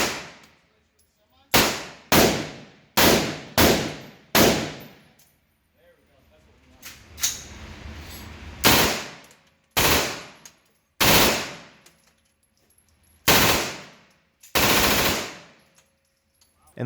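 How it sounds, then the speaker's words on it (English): An MP5K submachine gun fired in the VR game H3VR: about a dozen short, sharp automatic bursts separated by brief pauses, loud and close, with faint background noise between volleys. "So I fired the MP5K."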